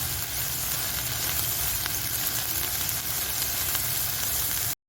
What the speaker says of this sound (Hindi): मसालों को अदरक लहसुन के साथ अच्छी तरह भून लेने के बाद